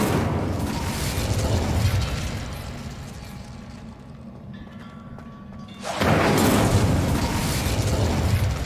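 Incendio fire spell from Hogwarts Legacy: a loud roaring whoosh of flame bursts out, subsides into quieter crackling and tonal shimmer, then erupts again into a second sustained blast of roaring fire.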